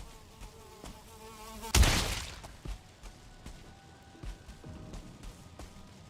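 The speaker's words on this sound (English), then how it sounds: "These respawns are no joke around here for these mosquitoes." Mosquitoes buzzing in the video game Valheim as a thin insect whine drifting under game sounds, broken by one loud impact crash partway through.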